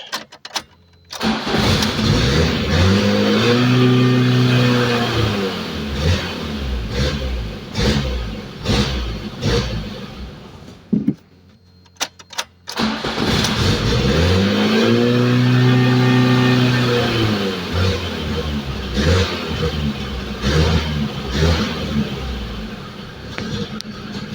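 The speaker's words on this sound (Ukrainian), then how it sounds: "Давай попробуем підгазовувати" Lada Kalina engine with a high, uneven idle that keeps stalling, cranked to life and revved in two long swelling blips, dropping back to an unsteady idle, cutting out briefly, then restarting and revving again, loud and close.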